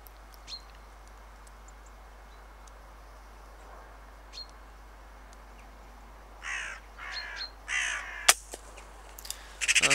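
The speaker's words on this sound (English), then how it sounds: "A couple of magpies land in the field beside him." Magpies calling from a stubble field, a few harsh chattering bursts at mid-distance in the second half, with quieter bird notes and an open outdoor hush earlier on.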